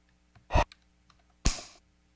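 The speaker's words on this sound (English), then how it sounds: "that was me breathing, so we're going to get rid of that one." Breathing recorded by the built-in mic of a Polyend Tracker Mini comes as two short, close breaths, each a quick airy puff separated by about a second of near silence.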